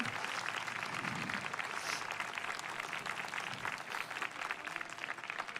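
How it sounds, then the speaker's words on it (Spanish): An audience applauds keyboardist Pepe Céspedes at a festival closing ceremony, dense sustained clapping heard from within the room for several seconds. "Quiero pedir un aplauso para el maestro Pepe Céspedes que nos acompaña en los teclados"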